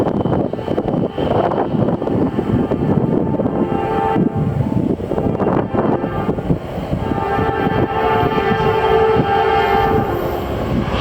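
Norfolk Southern freight train NS-283 rolls past close by, a loud, steady rumble of wheels and cars with sustained horn tones sounding over the roar through much of the pass.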